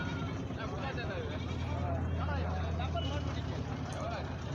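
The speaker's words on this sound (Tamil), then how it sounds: "பாருங்க, ஒரு 2 குட்டி ஆடுங்க." Young goat kids bleat at a busy goat market in Narikkalpatti, their short cries rising over steady crowd chatter and a low engine rumble, with people talking throughout.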